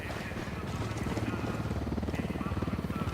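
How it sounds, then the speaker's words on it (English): Rhythmic rotor thudding of an approaching enemy helicopter in the Ghost Recon Wildlands game, a steady pulsing chop growing slightly louder across the moment under faint background game noise. "Hit the dirt. Helicopter."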